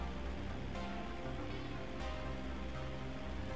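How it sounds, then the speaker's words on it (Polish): Steady rain falls continuously in the video game GTA V, a dense hiss with scattered drips, fairly faint and unbroken, with no voices over it. "Więc jeszcze pada."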